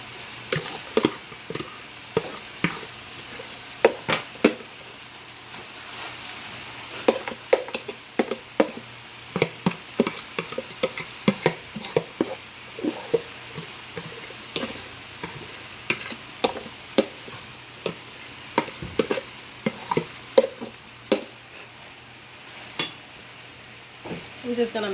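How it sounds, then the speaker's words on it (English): Collard greens and mixed greens for a Haitian-style dish fry in a pot under a constant soft sizzle, broken by frequent irregular knocks and scrapes of stirring, close and fairly quiet, with no talking. "I'm going to go ahead and put in my collard greens along with my mixed greens."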